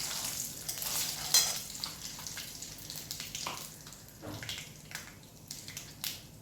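A few cumin seeds sizzling in hot oil, giving a steady close frying hiss with occasional crackles and stirring clinks, with no voices.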